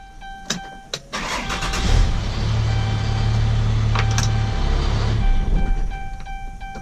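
A Cummins 6.7 diesel pickup engine cranks briefly, then catches and settles into a steady, loud, low idle rumble that holds for several seconds before easing off, with no talking over it.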